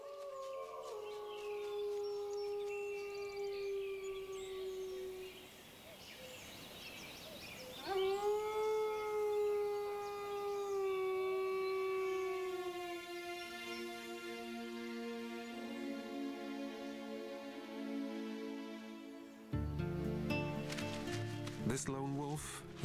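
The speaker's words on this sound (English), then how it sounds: "This lone wolf is a young male." A lone young male wolf howls in the wild of the Chernobyl exclusion zone, long sustained wavering tones rising and falling in several drawn-out calls, with a brief break midway and other noise entering near the end.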